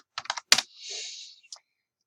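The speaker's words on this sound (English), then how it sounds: "let me type food correctly" A few quick computer-keyboard keystrokes click in a short burst, followed by a softer sliding hiss and one last isolated click, all close and fairly quiet with no talking.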